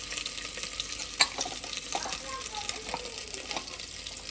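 Meat frying in a pan is stirred with a utensil, giving a steady sizzle with scraping and clinking strokes, one sharp knock among them, while a voice speaks nearby.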